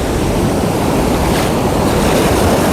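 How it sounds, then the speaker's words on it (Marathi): Ocean surf at Marina Beach in Chennai, a steady loud wash of breaking waves with wind buffeting the microphone, continuous throughout with no voices. "मित्रांनो हा निसर्ग आणि हे अथांग सागर, खरंच ह्या लाटा"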